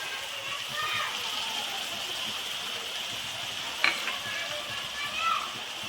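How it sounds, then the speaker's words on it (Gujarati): Tomato paste hits sautéed onions in a pan for dhaba-style kaju paneer masala, making an even, continuous sizzle with a single sharp clink of a utensil partway through. "હવે આપણે એમાં ટમેટાની પેસ્ટ ઉમેરીશું।"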